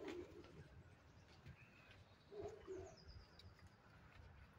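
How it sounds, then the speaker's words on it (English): Soft cooing of a pigeon or dove at the Krupunder See lake, a few low hooting calls heard faintly at a distance against outdoor background noise, with a thin bird chirp in the mix. "And oh, there's a bird."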